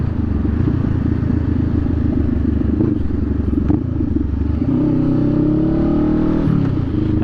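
A Honda Rebel 500 motorcycle rides along the road, its engine droning steadily and close with wind rush, building slightly in pitch as it accelerates toward the end.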